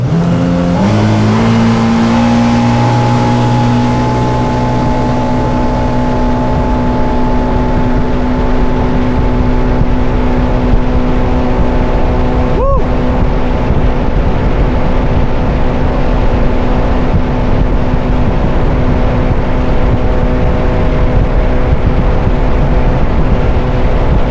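A loud 2019 Yamaha AR190 jet boat engine roars steadily at high revs, its pitch climbing at first and then holding, with rushing wind and water.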